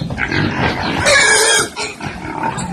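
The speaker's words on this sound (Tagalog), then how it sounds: "Kagutom ang aking mga baboy." Hungry pigs being fed organic feed, a dense continuous mix of grunts and squeals from several animals close by, rising to louder, sharper cries midway with no talk over it.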